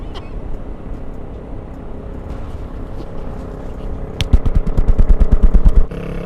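A Honda motorcycle exhaust passes close by, rising into a loud, rapid, pulsing burble over steady road and wind noise.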